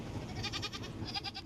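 Goats on an uninhabited island give a brief bleat, a wavering nasal call heard at moderate distance over a rough outdoor background.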